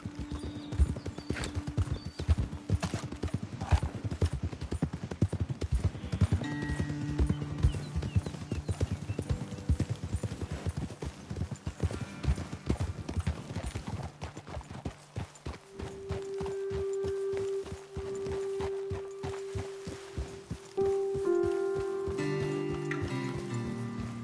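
Horses' hooves clip-clop in Red Dead Redemption 2 as riders travel a road toward a ledge, a steady close rhythmic trot with occasional snorts and neighs, and a few tonal game sounds appear later.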